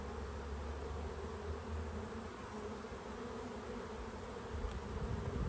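Honeybees buzz in an open hive during an inspection, producing a steady, dense droning hum that stays fairly soft and close throughout, with no talking.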